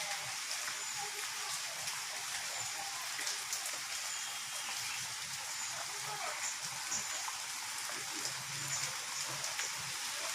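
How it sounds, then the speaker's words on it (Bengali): Steady rain falling outside during a long wet spell, a dense constant hiss of drops on surfaces, even and unbroken throughout. "জানি না কতদিনে বৃষ্টি থামবে।"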